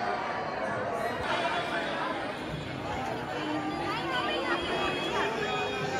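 A dense crowd chatters steadily at a busy Mathura temple, overlapping voices forming a constant murmur of babble throughout with no single speaker standing out.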